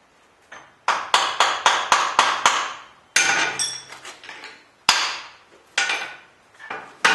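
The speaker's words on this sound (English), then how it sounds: "Little brass hammer there." A small brass hammer taps metal parts of a rotary weld table positioner being fitted, a series of sharp ringing strikes in uneven rhythm, close and clear with no talking.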